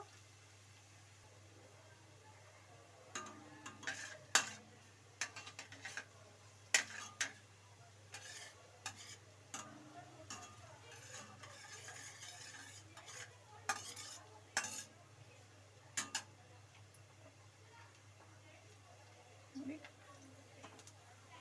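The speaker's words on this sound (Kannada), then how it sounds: "ನೋಡಿ ಈರುಳ್ಳಿ ಎಲ್ಲ ಎಣ್ಣೆಯಲ್ಲಿ ಚೆನ್ನಾಗಿ ಫ್ರೈ ಆಗಬೇಕು" Onions frying in oil for a brinjal curry, stirred with a utensil: a low steady sizzle underlies irregular clinks and scrapes of the spoon against the pan, close but quiet, with stretches of near stillness between bursts.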